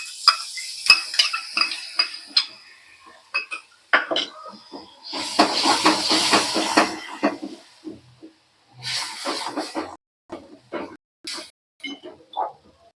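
A spoonful of plain curd is stirred into garlic chutney sizzling in oil for khatta dhokla. Close, intermittent bursts of frying hiss and spoon scraping come between quiet gaps.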